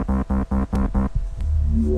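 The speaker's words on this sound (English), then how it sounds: "I added this loop in here. It sounds like this." Dubstep-style electronic loop with heavy pulsing bass chords chopped into rhythmic bursts, then a thinner wobbling synth texture; loud and upfront with no talking.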